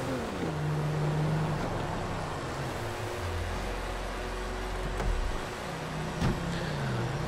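A car engine in GTA 5 runs steadily with a droning hum, rising and falling as it drives, moderately loud and alone without talk.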